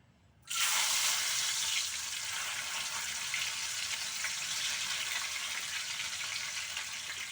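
Soaked urad and chana dal drop into hot oil in a wok, setting off an abrupt loud hissing sizzle that stays strong and steady, heard close with no talk.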